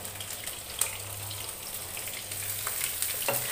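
Capsicum and tomato going into a hot frying pan of oil, giving a steady close sizzle and crackle with a few soft clinks and stirring scrapes, no voices.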